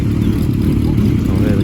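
Several customised Kawasaki motorcycles ride past with a steady low engine rumble, loud and close throughout, with speech likely mixed in.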